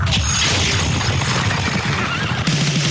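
A horse neighs loudly in a Kentucky Derby radio advertisement, a drawn-out whinny layered over produced sound effects with a hard hit near the end.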